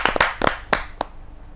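Scattered clapping from a kavi sammelan audience greeting a poet: about five sharp, separate hand claps at an uneven pace, fairly close and fading out after the last one, with no voices.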